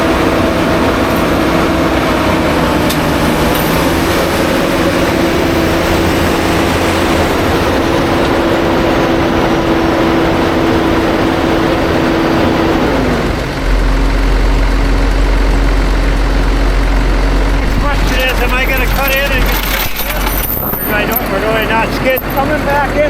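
A stuck logging machine in the Upper Peninsula runs its heavy engine steadily while its tracks spin, a loud continuous low drone that shifts pitch midway, with people talking over it.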